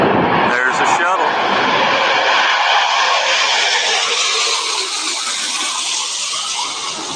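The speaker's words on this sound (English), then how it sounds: "Take a look and take a listen to those jet engines." A space shuttle comes in to land with a loud, sustained jet-engine roar that holds steady and then fades slightly toward the end, with no talk over it.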